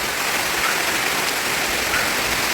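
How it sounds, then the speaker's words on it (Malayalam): Steady rain pours down in a dense, even hiss that holds at the same level throughout, with no voices. "മഴ പെയ്യുന്നു, ആ ചൂടങ്ങ് പോട്ടെ."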